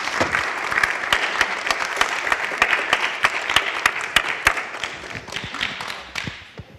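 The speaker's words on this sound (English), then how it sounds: "could we give them another round of applause?" Audience applause in a college board of overseers meeting: steady clapping from a room of people for nearly seven seconds, with sharp individual claps standing out, fading slightly at the end.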